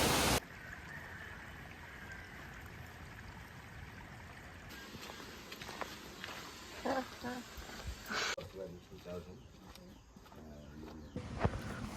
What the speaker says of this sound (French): on est arrivé à la cascade